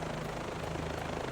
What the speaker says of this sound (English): And you can use this helicopter,